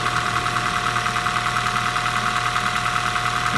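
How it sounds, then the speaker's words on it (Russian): Changan Uni-T engine idling with a steady, loud mechanical drone and a fine continuous ticking running through it, with fan whir and no talk over it. "Цокает. Чик-чик-чик-чик-чик-чик."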